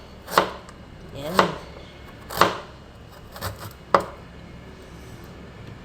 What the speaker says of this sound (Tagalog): maghiwa tayo ng luya